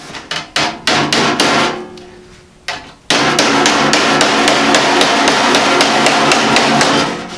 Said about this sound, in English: I can just work it with my body hammer.